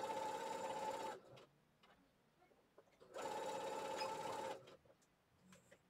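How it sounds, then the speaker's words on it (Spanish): A sewing machine stitches a straight seam joining two fabric pieces, in two steady whirring bursts about a second and a half long with a short pause between them, close and clear with no talk. "pasaremos una costura recta para unir estas dos piezas usando el ancho del prensatelas"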